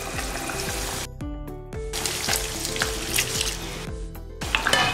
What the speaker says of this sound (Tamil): இந்த மாதிரி கிளறி விட்டுட்டு மறுபடியும் ஒரு 10 நிமிஷம் நல்லா அடுப்பை குறைச்சி வச்சு மூடி வச்சிடணும்